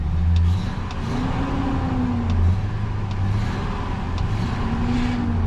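A junk car at a salvage yard auction idling after starting right up, its engine a steady, close, rumbling hum with slight rises in revs and a few faint ticks, no speech over it.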